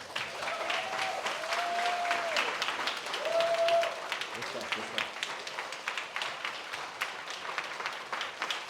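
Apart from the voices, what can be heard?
audience applause for Marvin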